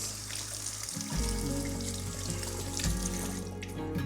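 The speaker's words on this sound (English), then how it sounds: "Just gonna rinse off my fingers." Water runs from a kitchen tap as fingers are rinsed beneath it, a close, steady gushing and splashing with a brief change in the flow partway through.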